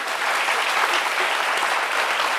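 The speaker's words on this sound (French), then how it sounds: "Andrea Etienne, applaudissements pour la seule antillaise baoulée de cette émission" A TV studio audience claps steadily for a guest on a French midday talk show, a dense, loud, even wash of applause with no pauses.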